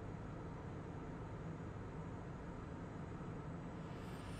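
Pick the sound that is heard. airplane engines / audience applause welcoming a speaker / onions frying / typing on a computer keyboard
airplane engines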